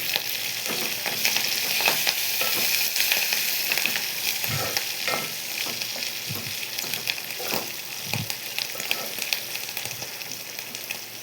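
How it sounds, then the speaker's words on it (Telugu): Turmeric is stirred into a ridge gourd peel mixture in a hot pan, a steady close frying sizzle running throughout with occasional soft scrapes and thumps of the spoon. "యాడ్ చేసి మొత్తాన్ని బాగా ఇలా మిక్స్ చేసుకోవాలి."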